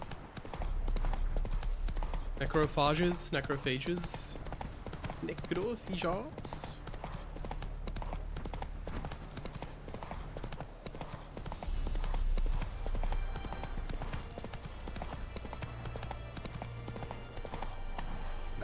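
Hooves of Roach, a horse in The Witcher 3 video game, clip-clop in a steady walking rhythm throughout under game music, while a voice speaks over them early on.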